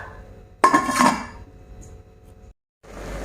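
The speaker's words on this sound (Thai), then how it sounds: "ปิดฝารอค่ะ" A metal lid clanks down onto a pot of boiling water with red ants for a Thai miang dish, one sharp close clatter that rings briefly, then a low bubbling hum and silence.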